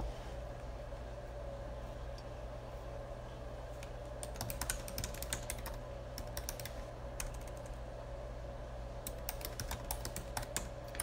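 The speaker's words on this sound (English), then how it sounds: "I'm going to type it in there for you." Keystrokes on a computer keyboard come in irregular bursts over a steady low hum, moderately close and fairly quiet, with no talking.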